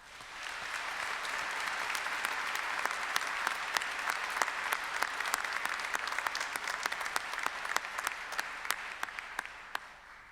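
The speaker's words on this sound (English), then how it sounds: "I now ask members of the audience to applaud your accomplishments." A graduation ceremony audience in a university hall applauds steadily for about ten seconds, a dense wash of many hands clapping that fades slightly toward the end, with no talking.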